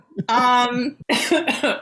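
A strained vocal sound followed by a few harsh coughs, close and loud, in a short burst.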